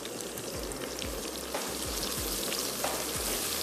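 Whole spices (black cardamom, a cinnamon piece, green cardamom, cloves, bay leaf and cumin) sizzle in hot oil for Afghani mutton biryani, a steady crackling fry with small pops, close and continuous.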